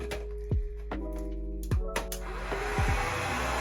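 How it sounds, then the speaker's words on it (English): A hair dryer fitted with a curl diffuser hums steadily throughout, with several sharp knocks and clicks breaking in, as if the nozzle bumps against something. "use my handy dandy curl diffuser and a blow dryer to blow out my hair"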